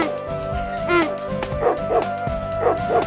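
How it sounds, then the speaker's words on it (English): Small animated dog giving a few yipping barks and whimpers amid a busy mix of farmyard animal noises and music, fairly close and moderately loud. "The donkey brayed, the dog barked,"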